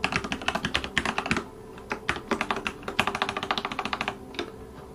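Keys clatter on a computer keyboard as a query string is typed into a field, quick irregular bursts of clicks with a short pause midway, close and moderately loud with no talking.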